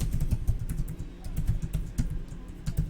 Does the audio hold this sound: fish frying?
no